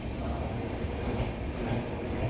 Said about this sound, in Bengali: এই আমাদের ট্রেন আমাদেরকে গুড বাই জানিয়ে বেরিয়ে যাচ্ছে।